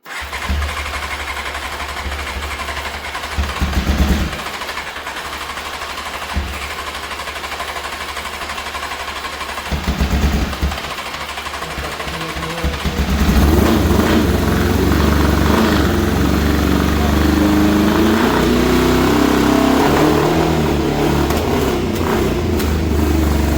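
A Honda CBR motorcycle engine with its carburettors covered over, cranking with a few short bursts and then catching and running at a steady loud idle, close by and without talk.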